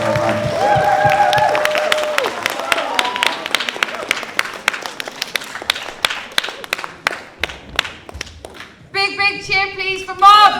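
An audience applauds and cheers for the performer Marv at a spoken-word event, a dense burst of clapping that thins into scattered claps, with a voice talking over it near the end.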